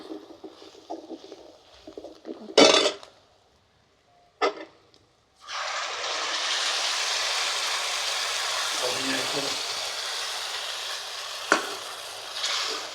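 Ground tomatoes go into a pot of dal makhani on a traditional clay stove and are stirred in, giving a few sharp clatters and then a long, steady loud sizzle, with speech early on.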